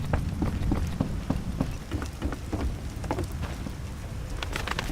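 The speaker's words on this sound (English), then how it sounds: "Rain. Rain. Great." Rain falls steadily in The Witcher video game, a constant wash of patter with scattered heavier drops and faint irregular thuds beneath it.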